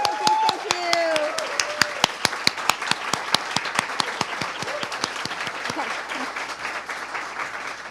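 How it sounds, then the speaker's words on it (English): Audience applause fills an awards event for national student winners, a dense steady clapping crowd throughout, with a speaker's voice faintly audible over it. "Can we give another round of applause for all of them?"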